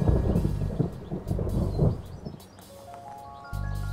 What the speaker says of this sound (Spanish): ¿No te da miedo andar volando por ahí con tanto rayo?